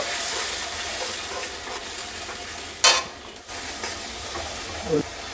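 Ground spice paste for chicken biryani frying in a pan, with a continuous hissing sizzle and a couple of louder scraping bursts as it is stirred.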